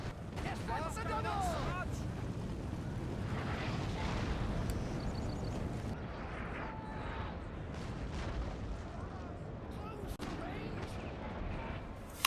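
A Napoleon: Total War recreation of the Battle of Waterloo, with dense rolling musket fire and booming explosions rumbling continuously beneath a narrating voice.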